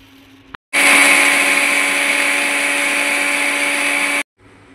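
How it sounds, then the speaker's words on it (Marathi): Flax seeds are ground in a kitchen mixer grinder, a loud, even motor whine that starts abruptly after a short click, runs for about three and a half seconds at close range and cuts off sharply into quiet. "फ्लॅक्स सीड्स मिक्सरला आता वाटून घेऊया"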